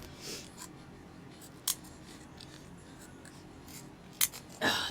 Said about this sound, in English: Those scissors do not cut fabric at all anymore, not even something like ribbon.